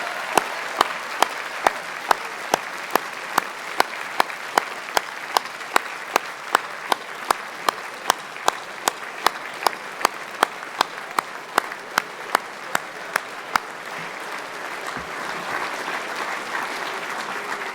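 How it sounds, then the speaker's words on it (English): Sustained applause from the audience at the Canadian Mining Hall of Fame 2026 induction ceremony for four new inductees. Dense steady clapping holds for about thirteen seconds, then eases into softer crowd noise. "Let's have one last massive round of applause for our 4 new inductees."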